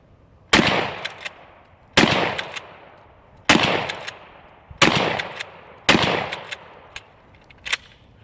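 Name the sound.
shotgun firing in a video game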